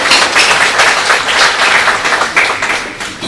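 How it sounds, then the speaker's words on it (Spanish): A union gathering in Peru applauds an honoured guest from the National Council of the Magistracy: loud, close, dense clapping that holds steady, then begins to thin toward the end. "Un fuerte aplauso para ella, por favor."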